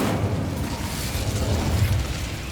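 Incendio fire spell cast in Hogwarts Legacy, a dense continuous roaring whoosh of flame with rumbling low end, loud and close throughout, no talking.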